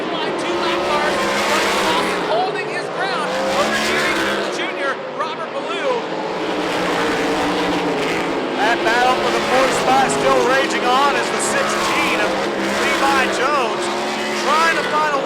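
USAC midget race cars run three wide in a feature race, engines screaming continuously and loudly with rising and falling pitch as cars pass, under a race commentator's voice.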